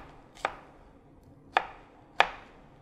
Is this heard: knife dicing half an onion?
yes